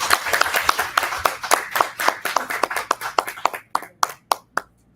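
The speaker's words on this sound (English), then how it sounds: "I would like a warm clap of hands to Jayane" A small audience claps hands after a panel session: a steady run of crisp, fairly close claps that thins to a few scattered final claps.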